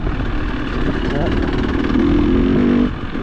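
A Honda motorcycle ridden along a byway on a cold, wet day passes close by, its engine note rising and holding near the end before easing off, while a voice talks over it.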